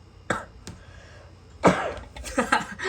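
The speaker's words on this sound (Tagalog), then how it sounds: "Sorry talaga guys, inuubo ako." A few harsh coughs, close by, with short pauses between bursts and a cluster of rougher coughing near the end.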